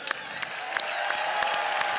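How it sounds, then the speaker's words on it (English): Audience at a televised music competition applauds an artist with steady dense clapping and a few individual claps standing out, building slightly over two seconds. "I want that you make a warm applause to this fantastic artist"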